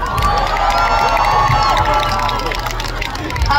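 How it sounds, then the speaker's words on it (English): A festival crowd at SabaideeFest 2024 cheers and shouts loudly, with whoops and excited voices over a constant wash of noise and a musical hum beneath, sustained throughout. "Can we give them a round of applause?"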